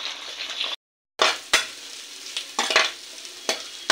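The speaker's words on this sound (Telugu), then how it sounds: "ఇది వేడెక్కిన తర్వాత 4 eggs వేసేస్తున్నా" Four eggs sizzle loudly in hot oil in a pan, a steady frying hiss broken by a brief silent gap and a few sharp crackles and spatters.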